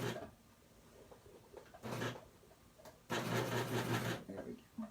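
Sewing machine running a cover stitch along a T-shirt hem, two short bursts of fast mechanical whirring, the second longer and louder, with quiet room noise between them.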